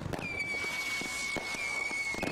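Decorative fireworks set off at a festive gathering burst and crackle in a steady run of sharp pops, with a high whistling tone sustained through the bursts and no talking.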